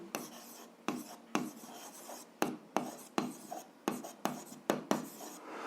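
Chalk or marker strokes scrape across a classroom board as algebra is written out, a run of short rasping scribbles in quick bursts with brief pauses, close and fairly quiet with no voices.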